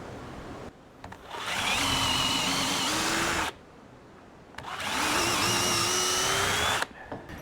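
Power drill boring 6mm holes in timber, two long bursts of steady whirring with rising pitch as the bit bites, separated by a short quiet pause, close and loud.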